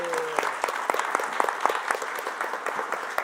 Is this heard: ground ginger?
no